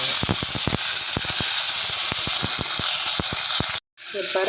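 Cleaned pirandai (adamant creeper) stems fry in hot oil, making a loud, steady hiss broken by regular crackling pops, then a sudden brief dropout before the sizzle resumes.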